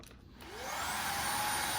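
A cordless stick vacuum, Greenworks or Dyson, switches on and spins up with a rising whine, then settles into a steady, fairly quiet motor drone.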